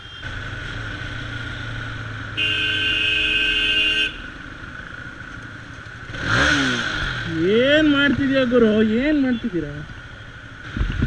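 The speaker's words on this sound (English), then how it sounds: "I'm right next to them honking so much" A car horn blares for about two seconds amid traffic noise, followed by a rising engine rev and a person talking over the road rumble.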